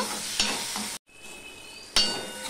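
Tomatoes cooking in a pan of vegetable dal, with a steady frying sizzle and a couple of sharp stirring scrapes from a ladle, briefly cut to silence midway.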